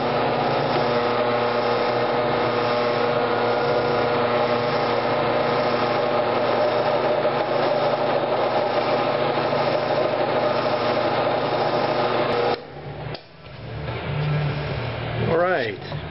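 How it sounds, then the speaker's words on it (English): A steady, loud whine of a power drill re-drilling holes in a guitar runs continuously for several seconds, then cuts off abruptly, leaving quieter handling noises. "Alright, so right now we're going to re-drill these holes."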